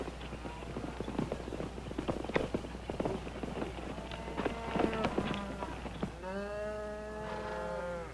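Horses' hooves clip-clop irregularly on the ground over a low steady hum, close and moderately loud, with a horse's whinny at the end.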